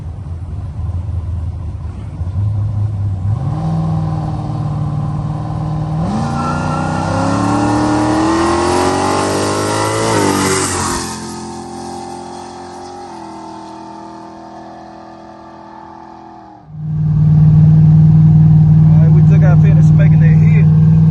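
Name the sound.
car engine revving with 950 CFM carburetor during test hit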